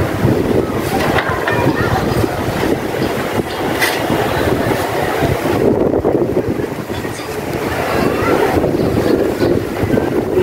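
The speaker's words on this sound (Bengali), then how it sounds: "খুব জোরে সোরে হাওয়া বইতেছে।" Strong stormy wind gusts hard against the microphone, a loud, rushing, buffeting roar that rises and dips slightly but never lets up, with no one talking over it.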